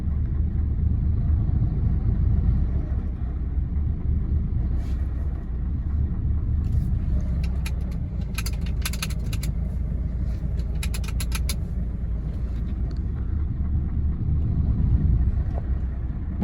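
A heavy truck sits stuck while its engine strains forward in gear, producing a continuous low rumble with creaking and mechanical clatter and occasional sharp crackles.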